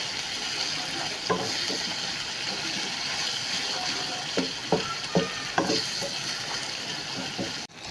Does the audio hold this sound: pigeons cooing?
no